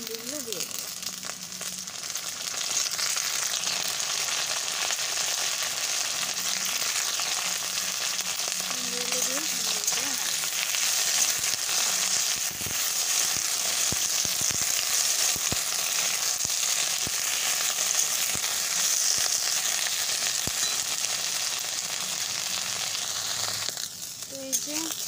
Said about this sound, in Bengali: হালকা করে ভেজে নেবো, খুব বেশি ভাজবো না ভেন্ডিটা।